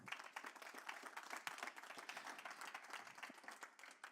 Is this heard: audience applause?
yes